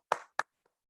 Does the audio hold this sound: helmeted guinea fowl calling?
no